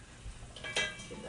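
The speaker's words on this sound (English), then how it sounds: "Give that a stir." A spoon stirs seafood risotto in a pan with a short, close scrape and clink over a low sizzle.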